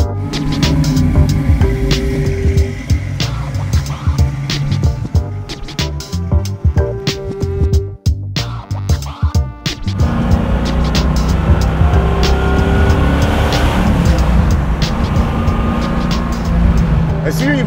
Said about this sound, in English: And the Flowmaster sounds so good on this thing.